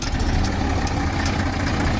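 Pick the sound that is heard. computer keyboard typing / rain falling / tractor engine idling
tractor engine idling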